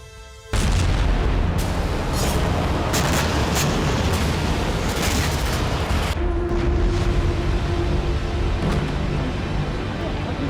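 A loud explosion in Sevastopol from a Ukrainian attack on a Black Sea Fleet warship, a sudden blast followed by sustained roaring noise with further sharp bangs, close and heavy throughout.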